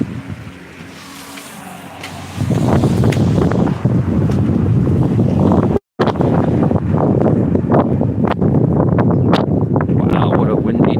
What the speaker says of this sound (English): Wow, what a windy day, I tell you.